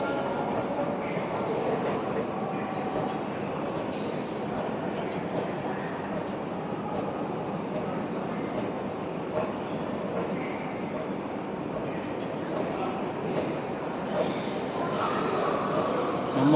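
Railway station platform ambience: a steady, dense wash of crowd murmur, distant train rumble and faint clatter, with someone talking nearby over it throughout.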